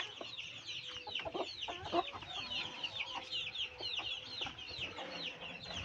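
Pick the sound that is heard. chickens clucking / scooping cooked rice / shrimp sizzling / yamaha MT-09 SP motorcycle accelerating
chickens clucking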